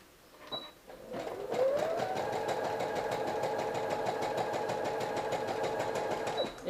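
Home sewing machine running a steady stitch through fabric for a crop top or pencil skirt, a rapid even whirring hum that speeds up, holds for several seconds, then winds down.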